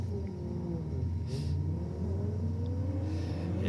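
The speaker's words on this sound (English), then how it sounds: "Little 1200 ute in the Aeroflow lane, taking on the Falcon over there in the rocket lane, Mark." A Datsun 1200 ute and a Ford Falcon at a drag race, with a steady low engine rumble and idling revs, rising and falling engine pitch, heard from a distance without voices.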